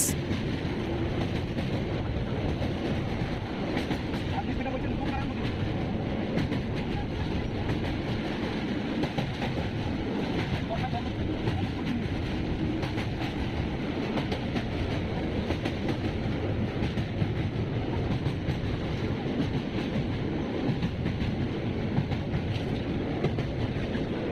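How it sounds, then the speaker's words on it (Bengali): A train rolls across the Kolaghat rail bridge over the Rupnarayan river on the Kolkata to Digha line, giving a steady, loud rumble with clattering wheels that runs throughout, with no talk. "এখন পার করছি রূপনারাজান নদীর ওপর দিয়ে কোলাঘাট রেল ব্রিজ"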